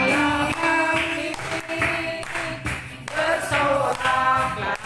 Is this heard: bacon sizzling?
no